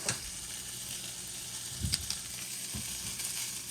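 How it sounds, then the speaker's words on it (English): Chicken skin stir-frying in a pan for costra tacos, fat rendering out in a steady, close sizzle with brief scraping stirs and a few louder crackles partway through. "stir frying it around"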